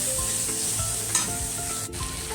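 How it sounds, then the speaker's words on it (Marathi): Chili and grated coconut stirred and sautéed in a little oil in a pan, giving a steady close sizzle with repeated scraping strokes of a spoon, no voices. "आणि थोडंसं तेल टाकून आता हे परतून घ्यायचं."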